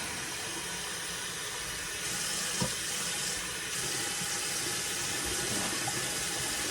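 Water pours steadily in a continuous rushing splash, close by, growing slightly louder partway through with a small clink.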